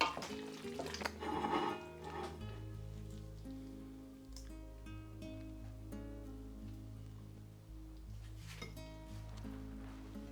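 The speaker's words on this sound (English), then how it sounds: "you give it a good mix inside your pot" Pasta with tomato ragu and Sicilian meatballs is stirred in a pot, giving soft wet squelching and scraping of a server against the pot, close and steady under background music.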